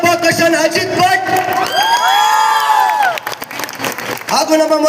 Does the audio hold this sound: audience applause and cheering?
yes